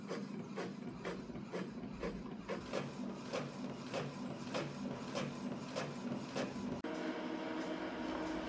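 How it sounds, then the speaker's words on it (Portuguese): An office printer runs a steady mechanical print cycle while producing a mind map, with regular clicking pulses of its feed, a continuous whir beneath, and a brief shift in tone near the end. "Já tô imprimindo ali o mapa mental."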